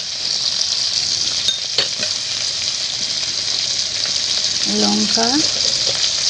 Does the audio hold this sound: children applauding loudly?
no